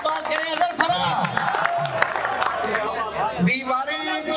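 An audience at a 2023 Urdu poetry mushaira in Sukhanpur welcomes the poet Azhar Farag with dense, sustained clapping, scattered whoops and cheers, and crowd voices murmuring underneath, with the applause swelling again near the end.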